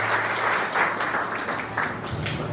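A seminar audience applauds to welcome a guest presenter, a dense, steady wash of many hands clapping that holds at an even, fairly loud level throughout, with no voices heard.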